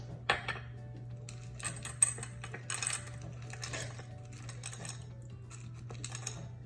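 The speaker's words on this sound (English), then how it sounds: "I'm gonna take 1/3 of my chocolate chips, and I'm gonna mix it in here as well." Chocolate chips stirred into a thick tahini cookie dough batter in a bowl, with scattered light clicks, taps and scrapes in an irregular rhythm, close and fairly quiet over a low steady hum.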